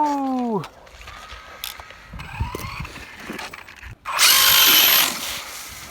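A brushless Traxxas Slash 2WD RC car drives in snow. Its motor whine falls away at the start, a few scattered bumps and lighter throttle follow, then a loud high-pitched full-throttle burst comes through close by.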